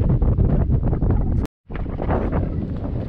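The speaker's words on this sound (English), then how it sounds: "All of a sudden it's like really windy." Strong wind buffets a sailboat under sail, a loud roaring rush over the microphone with a brief dropout midway before the gusting resumes, close and continuous.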